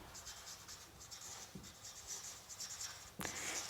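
Marker or chalk writing on a board during a network theory lecture on phasors: faint, continuous scratchy strokes in a quiet room, ending with a louder tap.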